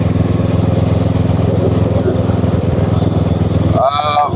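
A Kawasaki ER6N motorcycle rides toward Jatiluwih, its engine a steady loud drone with wind rush all through. Someone talks over it and the engine noise drops away at the very end.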